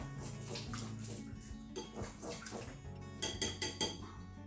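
Egg mixture with spinach and black pepper stirred in a bowl for a breakfast egg roll, a steady run of utensil scraping and clinking against the bowl, close up, with brighter taps toward the end and no talk.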